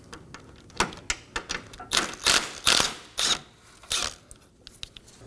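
A ratchet clicks in quick, uneven bursts as it loosens the 8mm bolt holding the AC condenser to the radiator of a Dodge Durango, with sharp, close metallic ticks and a few louder rapid runs.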